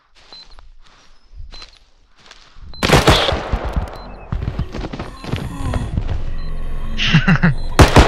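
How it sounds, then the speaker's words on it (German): Gunfire in the realistic first-person shooter Bodycam, set in woods: quiet footsteps and rustling at first, then loud, sharp rapid shots and automatic bursts echoing close by, with a few heavier thumps. "Ich habe jetzt endlich mal geaimt ordentlich und geschossen."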